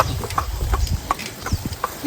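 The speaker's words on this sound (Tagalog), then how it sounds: "Pati yung kabayo." Horse hooves clip-clop on a road in the Philippines, a steady series of sharp, fairly close knocks in a walking rhythm, with people's voices mixed in.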